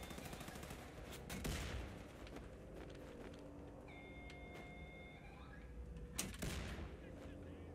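Gunfire from the shooter Wolfenstein II: The New Colossus, scattered sharp shots at low level with a couple of louder bursts near one and a half and six seconds, a faint tonal beeping in between.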